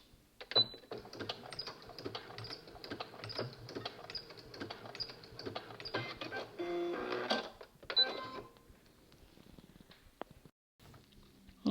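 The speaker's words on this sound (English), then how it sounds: "So I'm going to sew up to within about 1 inch and then back stitch" A sewing machine stitches a knit dress in a long, fast, steady run of rapid mechanical clatter, then pauses and makes a short burst of back-stitching before stopping. It sounds quiet and close, with no talking.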